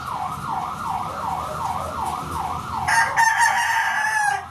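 Four-month-old Golden Boy chickens in a rearing setting: a rooster's loud crowing bursts out near the end over a wavering, siren-like drone and low background clucking.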